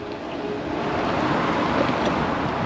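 Strong wind blows over the water at a Daytona Beach park, a steady rushing buffet with low rumble across the microphone and no voices.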